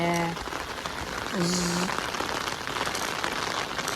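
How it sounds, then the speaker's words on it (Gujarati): The season's first rain falls steadily in a village, a dense even hiss of drops on surfaces, with a brief tonal sound near the start. "પહેલો વરસાદ."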